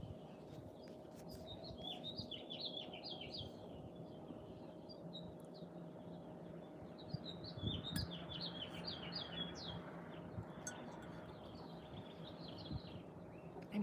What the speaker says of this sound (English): hearing a lot of bird sound.